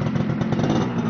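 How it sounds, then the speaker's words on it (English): Motorcycle engine heard from the back of a bike riding through town, a steady, loud mid-range rumble with a slight revving flutter, close and continuous. "we on a motorcycle."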